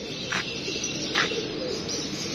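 On a rooftop loft, pigeons give two or three soft, short calls over a constant background hiss, faint and somewhat distant.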